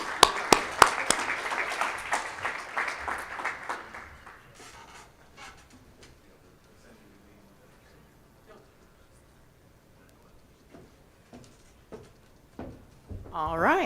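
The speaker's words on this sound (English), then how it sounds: "another round of applause" Audience clapping at an institute gathering, a short burst of loud applause at the start fading away within a few seconds, then quiet room noise with voices and scattered claps returning at the end.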